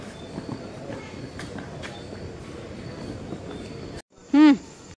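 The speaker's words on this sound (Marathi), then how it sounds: "ट्रेन तर सुटली" A train rumbles and clatters steadily along the rails, then the noise cuts off and a brief, bright tonal squeal follows.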